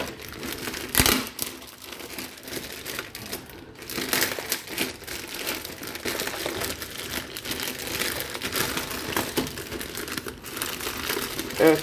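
Cardboard and plastic packaging of a surprise box being torn open by hand without scissors, with sustained crinkling, ripping and crumpling bursts close up and no speech.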